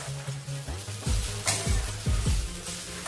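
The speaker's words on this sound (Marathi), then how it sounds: "मधून मधून याला आपल्याला परतून घ्यायचं आहे।" Beetroot for halwa being sautéed and stirred in a pan: a few scraping strokes of the spatula over a soft, steady sizzle, close by with no voices.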